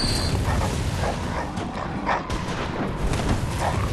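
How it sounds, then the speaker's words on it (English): Dogs bark and yip in Bloodborne: The Old Hunters, several sharp barks scattered over a busy, noisy game background with clanking mechanisms. "Dogs."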